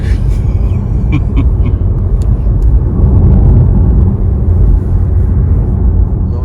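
Steady low rumble and road roar inside a moving Audi e-tron GT electric car, broad and constant throughout, swelling slightly mid-way as it accelerates, with no voices.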